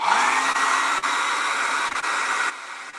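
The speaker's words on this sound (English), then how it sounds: "So pardon the blow dryer." A blow dryer runs close by with a steady, loud airy whoosh, briefly dipping a few times as it's moved, then continuing.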